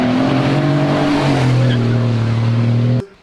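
A 12-valve Cummins diesel truck accelerates hard, its engine drone loud and close with steady rising harmonics for about three seconds before the sound drops away suddenly.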